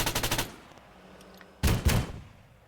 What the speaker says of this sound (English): let's check out the autocannon first thing